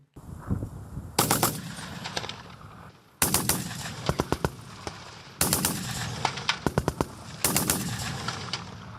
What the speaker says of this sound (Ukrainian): бійці 115-ї бригади відпрацьовують свою майстерність з пострілів з кулемету Браунінг